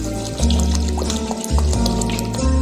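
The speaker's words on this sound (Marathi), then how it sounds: "आता आपण ह्याच्यात पाणी ॲड करूया।" Water is poured into a pressure cooker holding rice with bay leaf, a piece of cinnamon and salt. It makes a close, steady pouring and filling sound over background music.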